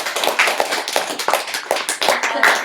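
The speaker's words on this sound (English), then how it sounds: "please give yourselves a round of applause" A small gathering at a campus talk event claps for themselves in a close, lively round of applause, the individual hand claps crisp and dense throughout.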